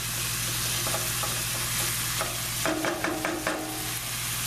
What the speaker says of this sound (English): just mix this with the couscous